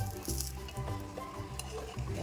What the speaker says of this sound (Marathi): आपल्याला एकच साईडून आपल्याला फ्राय करून घ्यायचं आहे तर भाजून घ्यायचं आहे